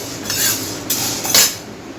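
Dal stirred in a cooking pot with a utensil, giving a few brief scraping clinks of metal against metal in short bursts, close by with no talk.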